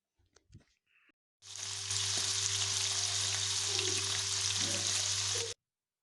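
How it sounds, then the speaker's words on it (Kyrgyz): Food frying in hot oil: a few faint knocks and handling noises, then a loud, continuous sizzle starts abruptly and holds steady before cutting off. "азыр майга куруп бышырып көрсөтөм"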